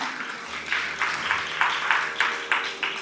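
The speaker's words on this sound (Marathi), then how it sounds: "आणि म्हणून हिंदू धर्मासाठी एकदा टाळ्या होऊन जाऊ द्यात ना." An audience at a Marathi religious discourse bursts into applause, a dense, continuous clapping that swells in rhythmic waves and carries through the whole stretch.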